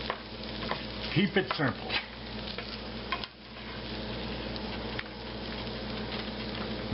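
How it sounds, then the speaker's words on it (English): Egg mixture is stirred in a frying pan, sizzling steadily with a few scraping strokes near the start, while a voice briefly speaks over the cooking. "put it in there, stir it around, combine it all up"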